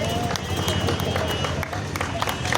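Steady, loud applause from a gathered crowd at the unveiling of a new Tanishq jewellery store in Jammu, dense clapping filling the space with some babble of voices underneath.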